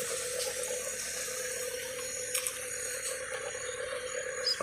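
Water drained from a swimming pool pours steadily down a path, a constant close rushing splash with no pauses and a faint background hiss.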